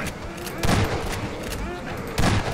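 Shotgun fire in Half-Life 2 lands as two loud, close blasts about a second and a half apart over continuous game noise, with talk in the background.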